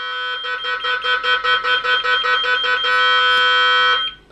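An intruder alarm panel setting after a biometric fingerprint reader accepts a valid finger, giving a loud, steady run of rapid electronic beeps in even pulses that merges into a continuous tone before cutting off abruptly.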